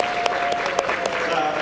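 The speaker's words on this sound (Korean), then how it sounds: "박수 한번 보내주세요." Audience applause at a humanities lecture: a steady wash of many hands clapping across the whole span, with a thin sustained tone running underneath.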